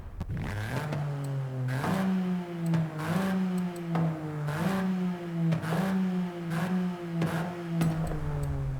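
A Toyota GR Yaris widebody revs repeatedly in Forza Horizon 5, its mid-pitched engine note climbing and dropping in about eight regular cycles, close and loud with no talk.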